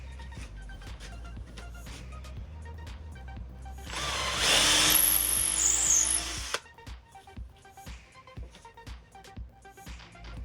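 A power drill bores a 5 mm hole in timber, giving a loud, steady whine that lasts about two seconds near the middle, with quieter workshop clicks and handling noises before and after.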